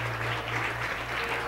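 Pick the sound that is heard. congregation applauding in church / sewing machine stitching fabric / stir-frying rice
congregation applauding in church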